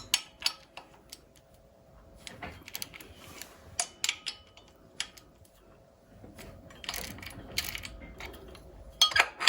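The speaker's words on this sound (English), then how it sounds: "Okay, now we want to loosen these 3 bolts on each camshaft sprocket." A spanner loosens the camshaft sprocket bolts on a 2.7 TD V6 diesel engine during a timing belt change, giving irregular metallic clicks, ratchet-like ticks and clanks that are close by, with quiet pauses between bursts.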